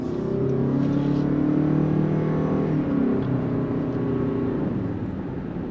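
A 2026 Toyota Crown XLE hybrid sedan accelerates at full throttle, heard from inside the cabin as a loud, steady engine drone that rises in pitch, dips briefly, then climbs again.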